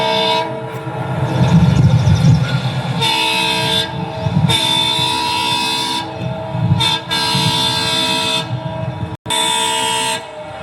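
An express train rumbles in with heavy wagon noise, while loud repeated horn toots sound over the rolling clatter.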